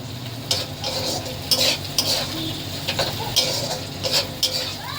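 Potato pieces and vegetables get stirred in a sizzling frying pan for an egg and vegetable chow mein, with a utensil repeatedly clinking and scraping against the pan over a steady fry.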